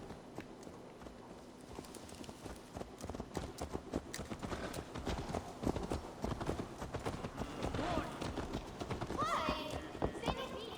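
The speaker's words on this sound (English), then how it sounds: "Let's return the horse" Horse hooves clip-clop in Assassin's Creed Valhalla, a steady trotting rhythm mixed with game music and ambience, with voices talking over it and a brief whinny-like sound near the end.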